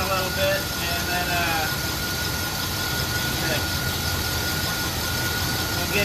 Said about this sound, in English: we need the idle up to about 850